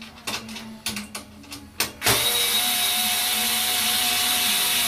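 Screws are removed from a Breezaire Sentry III controller, first a few short clicks and scrapes, then a power driver whirs on and runs continuously, close and fairly loud.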